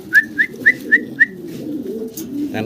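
A pair of Dragon breed pigeons coo close by, giving five evenly spaced, clear hooting calls followed by a softer, rumbling murmur.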